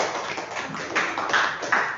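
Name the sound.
classroom applause, students clapping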